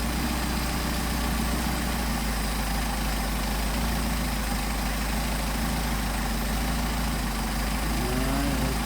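A car engine fitted with Solex 44PHH carburetors idles steadily at about 700 RPM, a continuous low rumble that holds even throughout, close and alone with no voices.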